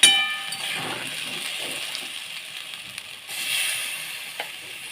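Taro paste dropped into hot mustard oil, a soft steady sizzle and hiss of frying, close and moderately loud, with a brief clink of a utensil and a swell of sizzling near the end.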